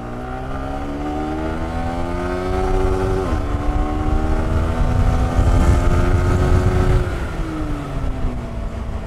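A modified motorcycle engine revving and accelerating while being ridden, its rising and falling harmonic drone steady and loud throughout, with a shift in pitch partway through and wind rushing past the microphone.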